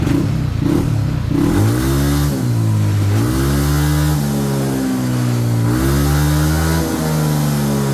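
A motorcycle engine on a dyno held at full throttle, a loud, close, sustained roar with rising and falling pitch sweeps as revs climb and dip.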